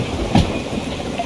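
A train rolls along the track in the Derail Valley railway simulator game, a steady low rumble with one brief clunk near the start.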